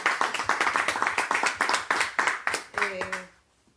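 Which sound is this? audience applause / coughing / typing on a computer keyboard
audience applause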